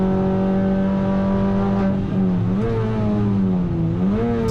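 Mini Cooper race cars brake and rev into a circuit hairpin, a loud close engine drone with falling then rising pitch as the gears change and the cars accelerate out.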